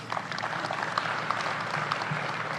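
Audience applause after a presidential speech, a dense, steady wash of clapping from a crowd filling the whole moment with no voices over it.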